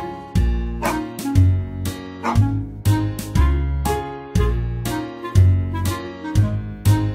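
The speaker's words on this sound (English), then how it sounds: "A dog." A dog barks in a steady series of sharp, loud barks, evenly spaced and close, set over a bouncy musical accompaniment in a children's animal-sounds song.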